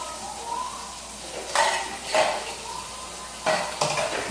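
A spoon stirs white beans into chili in a pot, with a few distinct scraping clinks against the pot over a faint background hiss.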